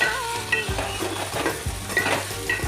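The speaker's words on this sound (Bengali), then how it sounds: "এবার গাজরটা সিদ্ধ হয়ে যাওয়া অবধি এটাকে নাড়তে হবে ভালো করে।" Carrots and vegetables fry in a pan while being stirred, giving a loud, steady sizzle with rhythmic scraping strokes of the spatula, close up and without speech.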